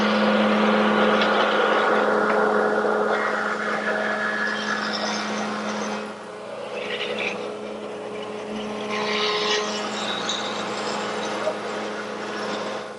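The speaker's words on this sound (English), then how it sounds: "And to do that, I'm going to use my router table, which I set up with a 1/4 inch rounding over bit." A router table with a 1/4 inch round-over bit shapes the edges of maple strips, a loud sustained high whine that dips briefly in the middle as the cut eases, then resumes, with no talk.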